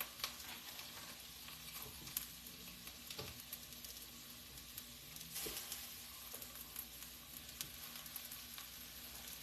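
Cauliflower sizzles in a frying pan with a steady, crackling hiss throughout, broken by occasional soft pops and utensil taps, fairly faint and without talk.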